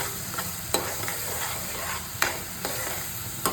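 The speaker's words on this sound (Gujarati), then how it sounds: "ડુંગળીને પણ આપણે મસ્ત રીતે મિક્સ કરી લેશું." Onions frying in a pan are stirred with a spoon, bringing a steady sizzle with a few sharp scraping clicks against the metal, close up and with no talking.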